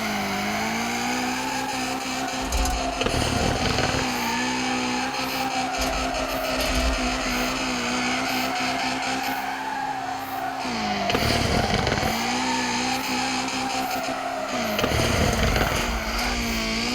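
A car drifting in a video game custom map, engine revving hard and continuously with repeated tire squeals and skids as it slides, loud and close with no talking.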